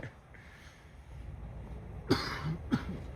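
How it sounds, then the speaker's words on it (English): Two sharp coughs about half a second apart, close and fairly loud, after a stretch of quiet room tone, during a morning walk at Magic Kingdom. "oh boy, what a cough"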